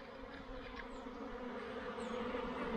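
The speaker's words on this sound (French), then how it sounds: "les jeunes butineuses, donc c'est-à-dire elles font leur premier vol." Young honeybee foragers on their first orientation flight, a dense continuous buzzing swarm that holds steady and grows slightly louder, with no voices.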